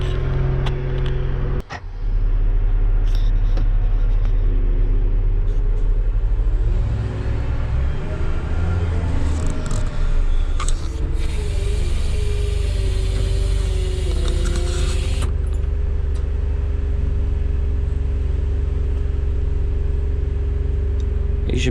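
A truck engine runs steadily while a salt barn is loaded, rumbling loud and close for the whole stretch with shifting pitch as it works, a brief dropout near the start.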